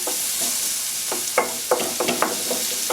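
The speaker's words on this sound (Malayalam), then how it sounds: "നമുക്ക് ടൊമാറ്റോ ഇട്ട് കൊടുക്കാം, മിക്സ് ചെയ്യുക." Tomatoes are stirred into a frying masala for restaurant-style dal tadka, a loud, close hiss of sizzling oil broken by several sharp scraping strokes of a spoon in the pan.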